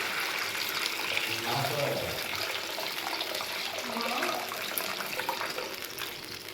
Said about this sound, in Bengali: মশলাপাতি থেকে তেলটা ছেড়েই দিয়েছে, এবার জল দিয়ে দেবো।